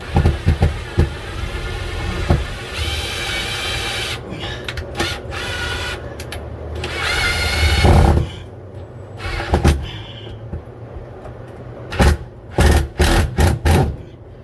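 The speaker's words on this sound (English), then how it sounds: "I use a hammer drill a lot of the time" A hammer drill driving screws into the wood of an antique china cabinet whirs and rattles loudly in long bursts, then stops and starts in short pulses near the end.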